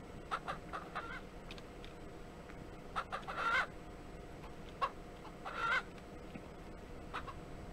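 Chickens in the farming video game Ranch Simulator cluck in short, faint, scattered bursts over a low steady background hum.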